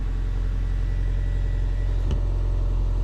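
A 2009 Hyundai Elantra engine idling steadily after starting, a low even rumble held close throughout, with one brief click near the end.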